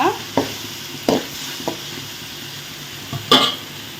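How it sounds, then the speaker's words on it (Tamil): A spoon scrapes and clinks in a frying pan as ginger garlic paste is stirred with tomatoes, heard as a few sharp, close knocks over a soft, continuous sizzle. "இஞ்சி பூண்டு பேஸ்ட்டு போட்டாச்சு இப்போ அதோடய பச்சை வடை போகும் வரைக்கும் நல்லா கிளறி எடுத்துக்கிட்டே இருங்க"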